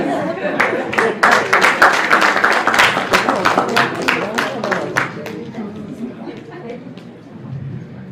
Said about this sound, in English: a round of applause for Bwana John Gitari from Moi University